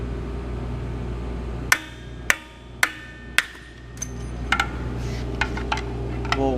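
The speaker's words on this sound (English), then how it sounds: "We'll work with a pry bar and a hammer." Sharp metallic hammer blows ring out one by one, about four evenly spaced strikes followed by lighter taps and clinks on metal parts, while removing shoes and springs from diesel drum brakes.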